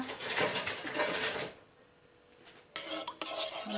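Someone stirs coconut milk in a metal pot on the stove, and a utensil scrapes and clinks against the pot for more than a second. After a brief quiet pause the scraping and stirring start up again.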